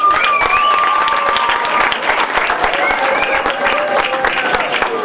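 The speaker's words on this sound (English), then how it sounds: "Round of applause." Sustained loud clapping from a banquet audience, dense and continuous, with shouted cheers and whistles rising over it throughout.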